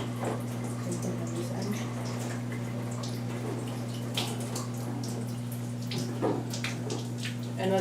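Water runs steadily over a body during a rinse, a continuous splashing pour with occasional drips beneath a constant low electrical hum, no voices.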